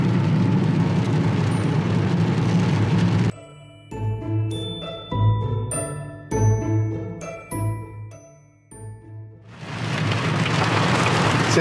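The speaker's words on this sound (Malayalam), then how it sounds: "മഴ നിൽക്കണില്ലല്ലോ, ഭയങ്കര മഴ" Heavy rain pours down near Mannuthy and the Kuthiran tunnel in Thrissur, a dense loud roar at the start and end, broken in the middle by a stretch of bright tinkling, chiming tones.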